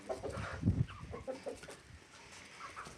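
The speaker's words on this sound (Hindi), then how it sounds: "और ये वाली मुर्गी आप लोग जानते हैं सिंधी नहीं है, असील है असील" An Aseel hen on a Pakistani village farm gives a few soft, low clucks close by, faint and irregular against quiet background noise.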